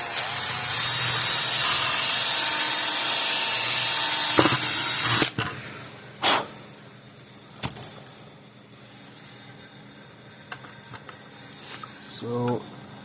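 A small high-pitched drill whines for several seconds into a solar fence energizer circuit board, then stops abruptly, leaving quiet clicks and handling noises.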